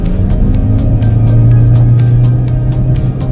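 Toyota Corolla Hybrid engine straining at full throttle, a loud steady low drone with a rising hum, close and continuous, no voices.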